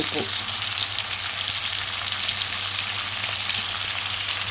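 Onions sauté with a little salt in oil left over from frying chicken for chicken biryani, giving a loud, steady, close-up sizzle and hiss that runs without a break.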